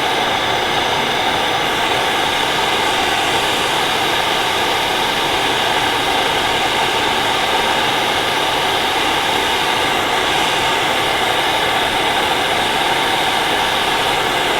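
Propane or gas torch roaring steadily while heating a seized bolt on a Ferguson TEA 20 tractor, a loud continuous hissing blast held close throughout with no pauses.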